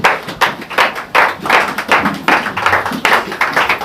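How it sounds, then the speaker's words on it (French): A church congregation standing and clapping for Jesus during a service: loud, rhythmic group handclaps in a quick, regular beat, close and continuous throughout. "Give a mighty hand to Jesus"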